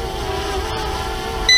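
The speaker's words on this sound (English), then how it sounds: "but it's still beeping too" Electronic beeping from an FQ777 F8 GPS drone, with a sustained tonal hum, ending in a louder sharp beep tone near the end.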